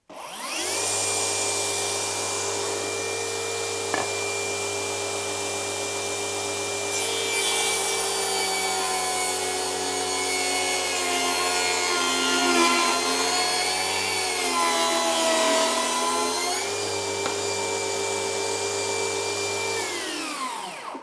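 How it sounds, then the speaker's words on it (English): A DeWALT FLEXVOLT 60V cordless table saw rips through thick 8/4 poplar, its blade whining loudly under a constant motor drone, the pitch dipping as the wood bogs the cut, then easing back before the saw spins down. "I'm going to make a rip cut on this thick piece of 8/4 poplar"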